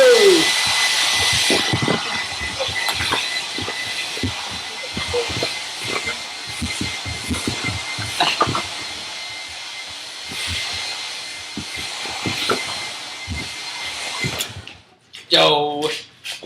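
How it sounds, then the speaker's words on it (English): An old hair dryer blows a steady broadband hiss throughout, loud and continuous, with a dog and voices intermittently sounding over it before it cuts off near the end. "Oh, it's the old hair dryer."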